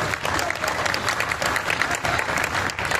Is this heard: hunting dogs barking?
no